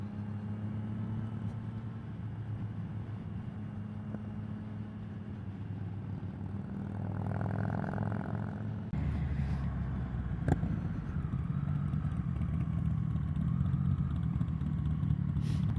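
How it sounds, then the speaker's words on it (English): A motorcycle exhaust drones steadily, then swells into a louder, throatier rumble as the engine revs up partway through. "But his exhaust sounds so sweet."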